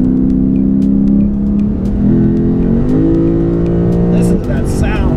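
A Lexus RC F engine drones steadily close by, pitch climbing in stages as it accelerates through the gears, with a faint clack near the end.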